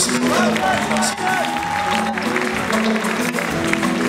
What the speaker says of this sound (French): Encore des applaudissements pour nous